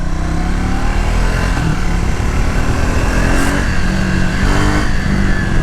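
A 2026 Triumph Speed 400 motorcycle with a 400cc engine drones loudly and steadily while being ridden, its engine note holding constant throughout with no talking.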